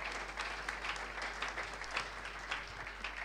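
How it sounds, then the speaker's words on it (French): A church congregation claps together in steady, sustained applause, a dense wash of hand claps with slight swells, fairly distant and without speech over it. "Nous disons Amen et nous acclamons pour la parole de Dieu."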